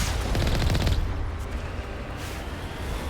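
Cannon fire in Mass Effect Legendary Edition, a rapid pulsing barrage of heavy shots for about a second, then a dull rumbling wash of explosions and combat noise.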